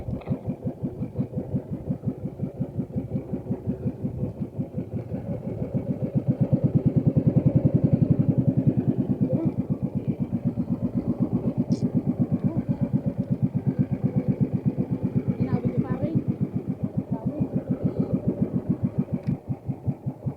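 Fishing boat engines chug steadily nearby in a fast, even putter. The sound swells louder for a few seconds as a boat passes, then settles back to a constant running drone.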